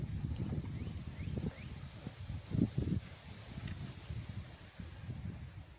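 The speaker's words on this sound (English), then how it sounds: "That wind is really picking up out here." Strong wind blows outdoors ahead of a severe storm in West Tennessee, a steady low rushing gust with rustling and buffeting against the microphone, surging briefly in the middle.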